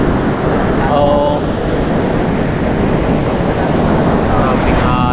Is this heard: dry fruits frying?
no